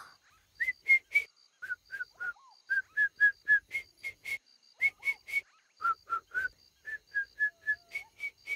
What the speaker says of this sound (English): Can you whistle for me again?